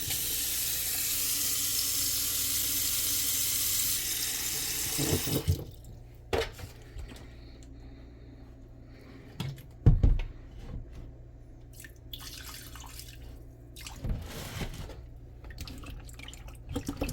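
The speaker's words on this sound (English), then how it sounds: "now that I have the fish all scraped and everything, I'm going to wash it with vinegar" Running tap water pours steadily for several seconds over scraped fish being washed with vinegar in a kitchen sink for a Jamaican steamed fish dish, then stops, leaving scattered drips, splashes and handling noises nearby.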